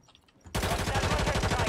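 An AK rifle in a video game fires a loud, rapid, continuous burst of automatic shots. The burst starts abruptly after a brief quiet moment and keeps going to the end.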